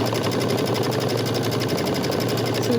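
Computerized high-end quilting machine stitching a quilt block in the hoop, a steady rapid mechanical whir and tapping held at even loudness throughout, with no talk.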